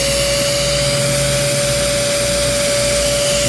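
A Euro Pro EP601 vacuum cleaner runs during a suction test, giving a loud, steady motor whine with a sharp constant tone over a rushing airflow hiss, unbroken throughout.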